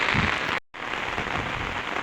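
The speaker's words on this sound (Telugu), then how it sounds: "వర్షాలు అయితే భారీ వర్షాలు పడుతున్నాయి" Heavy monsoon rain falls in Kadthal with a steady close hiss of drops on surfaces, briefly cut to silence once before resuming just as dense, with no voices.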